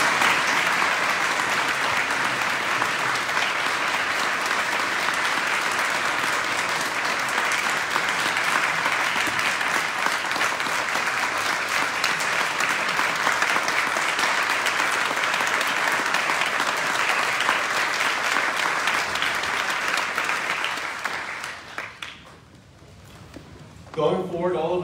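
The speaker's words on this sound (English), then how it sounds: "Ladies and gentlemen, please give Mary Sue a round of applause." A large audience at a University of Michigan presidential introduction gives a sustained round of applause, a thick, even roar of clapping that holds for about twenty seconds before fading away near the end.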